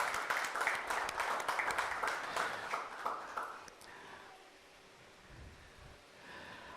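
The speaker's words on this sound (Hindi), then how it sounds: "इनके लिए जोरदार तालियां बजानी चाहिए" Loud, dense applause from a church congregation at a Pakistani sermon, a crowd clapping vigorously for about four seconds before it thins into scattered claps and faint room noise.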